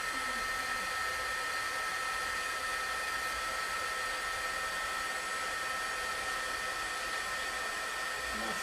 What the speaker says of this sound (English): I'm going to take my heat gun and heat emboss it.